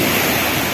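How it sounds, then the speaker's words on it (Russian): Sea surf at Lazarevskoye on the Black Sea in October washes and churns close by, a loud continuous rush of breaking water with wind across the microphone. "Волна так живет."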